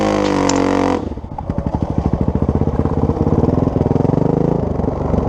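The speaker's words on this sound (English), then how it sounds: "You can listen to the bike here." A dirt bike engine drones up close on a deep-sand hill climb, its pulsing throb strained and steady as it labors, with a brief higher whine at the start.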